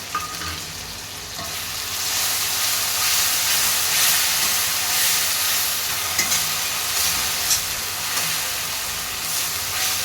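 Tomato paste fries with garlic and ginger paste in a pan for a Bengali rui fish kalia, a loud steady sizzle and hiss with stirring scrapes, close and continuous without speech.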